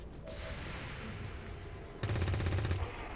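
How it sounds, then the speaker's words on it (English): Assault rifle fire in XCOM 2 Long War 2, a short rapid burst of shots cutting in sharply and loud over steady background game ambience, lasting under a second. "I hit with an assault rifle"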